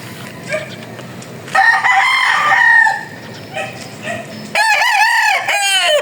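A two-year-old gamecock crows loudly and close by, twice, with long harmonic calls separated by quieter clucking and farmyard background.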